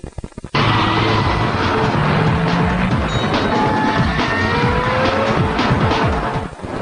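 An Ecomobile enclosed motorcycle drives past loud and close, its engine droning steadily with shifting whining tones after a sudden start, easing off only briefly at the end, no talking.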